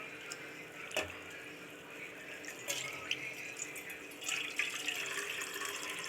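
Rice-washing water pours into a pot of crab for a crab rasam, a steady watery trickle and splash with a few brief louder spills.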